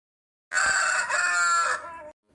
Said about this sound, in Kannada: ಅಪ್ಪ ಕೋಳಿ ಕಾಳು ಹಾಕಿಲ್ಲ ಯಾಕ? ಭಾಳ ಬಡ್ಕೊಳಕತ್ತಾವ